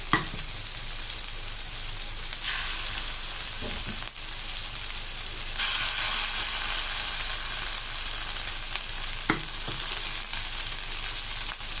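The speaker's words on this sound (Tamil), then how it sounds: "இதிலே போட்டு இதை நல்லா வதக்கிடலாம்." Masala sizzling and frying in hot oil in a pan for brinjal gravy, a loud continuous crackle with occasional stirring scrapes and knocks, no voices.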